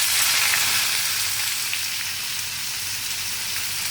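Chopped onions hit hot oil in a pan for anda do pyaza, a dense, steady sizzle and crackle that fades slightly over a few seconds, with no talking.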